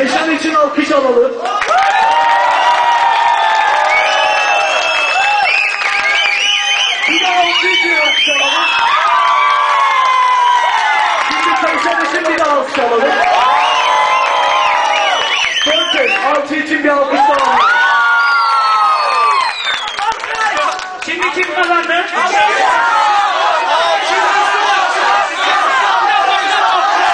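Crowd at a beatbox battle cheering, whooping and shouting loudly for nearly half a minute, excited voices rising and falling in waves with some clapping mixed in.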